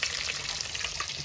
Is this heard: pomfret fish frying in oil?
yes